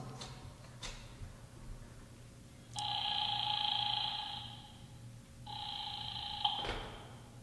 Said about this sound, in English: I grabbed the office phone and dialed Wolfe at once.